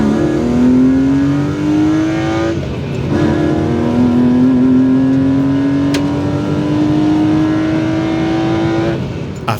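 A BMW 328i E36 engine pulls steadily while driving on a New Zealand road trip, its loud, close drone rising in pitch through long gears with brief shift dips, under constant road noise.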